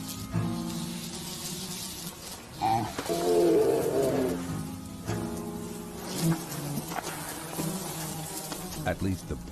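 Bugs buzzing around a polar bear in 28-degree heat: a steady, fairly loud insect drone that swells and fades as they fly near, with a voice briefly audible underneath.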